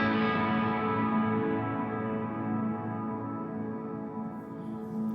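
Grain silo dome convolution reverb on a MOD Dwarf: a loud, long wash of sustained, echoing reflections that holds steady and slowly dims and darkens, with no talking.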